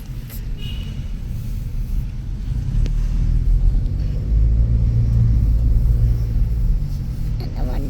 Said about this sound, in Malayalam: വണ്ടി ഓടിച്ചിട്ട് പോയി.